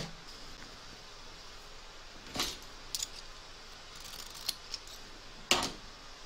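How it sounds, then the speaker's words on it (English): Sharp scissor snips trim appliqué fabric around a parrot's leg on a quilted design, a few distinct cuts spaced across a quiet room with no talking. "We're now going to trim up the fabric just around here where the leg is."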